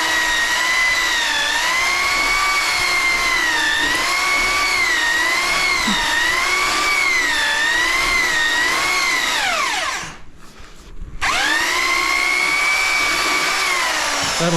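A power mixer churns shower mud (a sand-and-cement mortar bed) for a DIY shower, a loud steady whine that wavers with load, cuts out briefly near the end, then spins up again.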